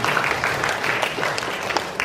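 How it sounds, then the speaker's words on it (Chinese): An indoor church audience claps in congratulations after a quiz answer, a dense, steady patter of many hands at moderate distance, continuous for the whole stretch with no voice over it. "我们拍手哈，恭喜。"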